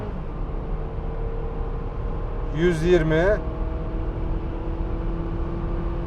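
A 2008 Honda CR-V with a 2.0 i-VTEC engine at full throttle, a steady engine drone and road noise heard from inside the cabin, with someone briefly speaking over it partway through.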